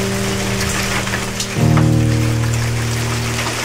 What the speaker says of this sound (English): This is the sound of rocks falling from the sky and hitting the ground.